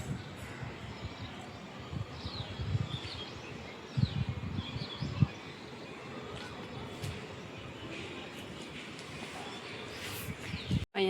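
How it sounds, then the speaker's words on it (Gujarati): An Asian koel calls faintly in the distance outdoors, its brief rising notes repeating over a steady hiss of ambient background noise, with a few soft thumps nearby. "કોયલ બોલે છે સંભળાતું હોય તો જો"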